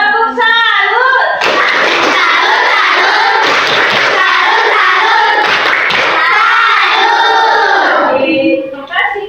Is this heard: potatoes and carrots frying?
no